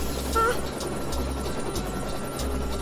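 A cartoon rescue helicopter's overheating engine and rotor thump steadily in the background, a rhythmic low chopping pulse, with a brief tonal whine near the start.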